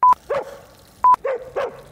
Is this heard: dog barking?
yes